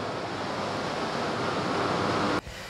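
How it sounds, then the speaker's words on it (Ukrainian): Tap water gushing from a faucet into a glass at a water pumping station, a steady loud rush that cuts off abruptly near the end. "набираємо прямісінько з-під крану"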